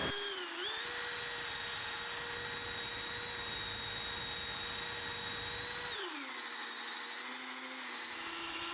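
A drill spins a 1-inch Forstner bit into an HDPE board, a steady high motor whine that drops in pitch as the bit bites, continuous and close with no talk.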